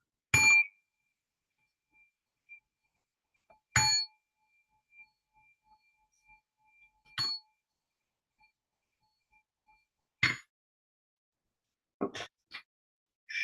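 A meditation gong is struck four times at even intervals of about three seconds in a quiet room, each clear metallic ding fading quickly into near silence between strikes.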